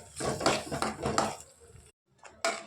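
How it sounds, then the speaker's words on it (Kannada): A spoon stirs curd into mushroom gravy in a metal pan, making close scraping and clinking strokes in a short burst, then a brief pause and another scrape. "ಮೊಸರು ಹಾಕಿ ಫುಲ್ಲು ಮಿಕ್ಸ್ ಮಾಡ್ಕೊಳ್ತೀನಿ"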